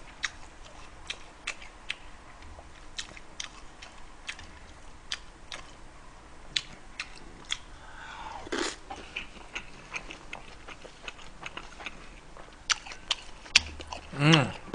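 Eating pork neck steak and sausage at close range, with irregular sharp bites and wet chewing ticks over a low background hum, a few louder crunchy bursts near the end and bits of speech mixed in.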